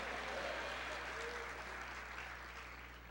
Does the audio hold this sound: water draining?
no